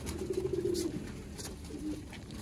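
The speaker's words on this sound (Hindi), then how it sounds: "देखो जी दोस्तों ऐ ने जी लोहे चीने कबूतर" Lohe Cheene pigeons coo close by in soft, low, rolling calls, a couple of phrases over a steady background hum.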